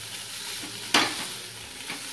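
Achaari aloo with kasuri methi stirred in a pan: one sharp scrape near the middle, a softer one near the end, and a low frying hiss throughout, with no talking.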